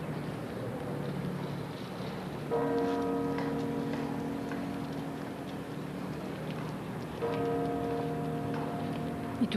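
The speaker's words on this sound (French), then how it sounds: "Et toujours la cloche Salvator, c'est la toute grosse cloche du carillon de la cathédrale, le gros bourdon que l'on sonne dans des circonstances exceptionnelles." Salvator, the huge bourdon of the Brussels cathedral carillon, tolling at a ceremony, two deep ringing strikes with long humming decay over a faint outdoor background.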